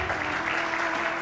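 An audience at an award ceremony applauds in a steady, dense burst of clapping throughout.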